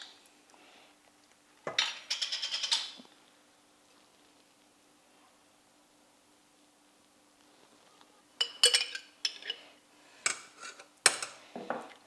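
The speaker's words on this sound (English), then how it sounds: "Now we're just going to stir all that up." Bolognese sauce from a jar being stirred in a pan, heard as two bursts of utensil scraping and clinking against the pan, the first a short steady stretch, the second several sharper knocks, with a quiet hum between them.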